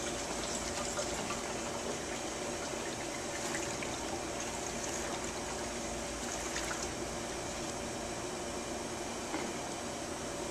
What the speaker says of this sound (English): We are filling this 5-gallon jug with isopropyl alcohol.